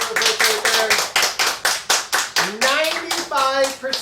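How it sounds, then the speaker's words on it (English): Children and adults at a school assembly clap in a steady, rhythmic beat for the first grade class, about a dozen even claps while voices talk and call out over them. "So give a big round of applause to first grade."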